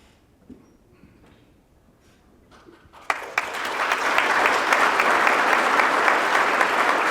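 An audience at a regional police Top Cop awards ceremony bursts into loud, sustained applause that fills the room, following a quieter stretch with a few scattered sounds.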